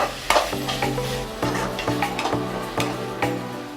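Chicken frying with coriander and curry leaves for a spicy chicken fry, stirred in the pan: a sizzling bed broken by repeated scraping stir strokes and light clinks of the spoon, fairly close, no talk.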